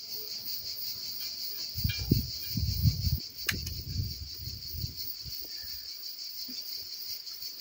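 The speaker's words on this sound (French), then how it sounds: "je vais pas aller emmerder les cigales" Cicadas in the open air around a garden path where lavender cuttings are being planted, a steady high buzzing drone that runs through the whole stretch, with soft low rustling and handling noises underneath.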